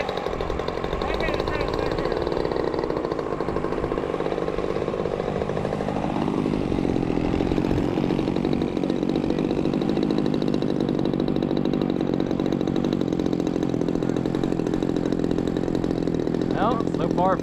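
A Saito FG-11 gasoline engine drones on a Hangar 9 10cc J3 Cub RC plane flying a low pass on its maiden flight, a continuous buzzing whose pitch sweeps down as it passes by, with a voice speaking over it.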